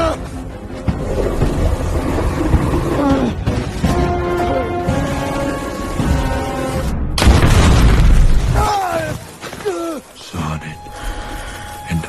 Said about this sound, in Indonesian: Rupanya ledakan dinamit pun tidak mampu menghancurkan Madub